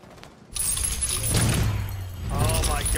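Gunfire in the tactical shooter game Rainbow Six Siege during a hostage round, loud dense bursts of shots and impacts filling the whole stretch, with voices talking over the action.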